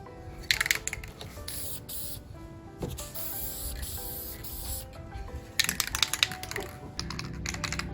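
Short hissing bursts of an aerosol can spraying adhesion promoter onto a Miata valve cover, several quick passes separated by pauses, faint and close, alongside light clicking and handling sounds.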